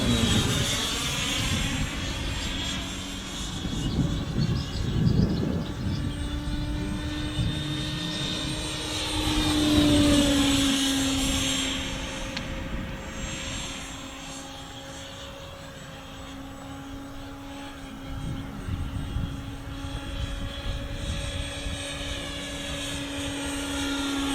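A Hawker Hunter model jet from a FlyFly kit passing overhead, a continuous whining drone with steady tonal pitch that swells and eases over about twenty seconds, moderately loud and alone.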